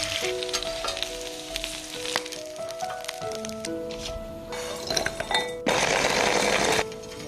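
Food pan-fries with a continuous sizzle, light utensil clinks and brief scrapes, then a sudden louder burst of crackling spatter near the end before it drops back.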